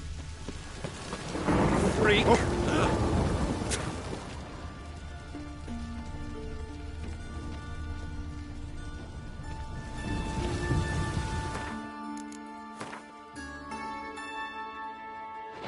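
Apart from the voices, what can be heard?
rain in the video game The Witcher 3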